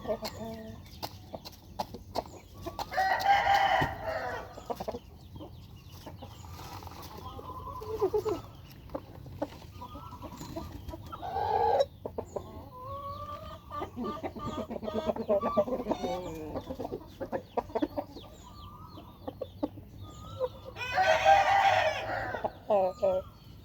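Roosters crow repeatedly and chickens cluck nearby on a farm, with several loud crowing bursts spread across the scene while someone talks intermittently.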